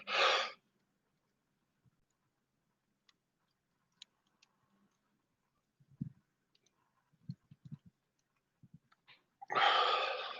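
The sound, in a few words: deep breath in during meditation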